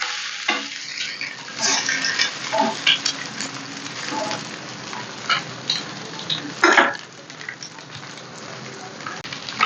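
A bread omelette frying in a pan over low heat gives a constant close sizzle with crackling pops. A few scraping knocks of a turner come as it is flipped. No talking is heard.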